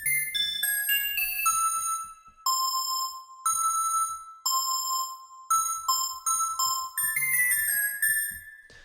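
A bright, high-pitched FM synth bell lead from Sytrus plays a melody of struck, ringing notes with metallic overtones, each note decaying before the next, clean and alone.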